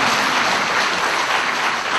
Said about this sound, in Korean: 축하의 박수 부탁합니다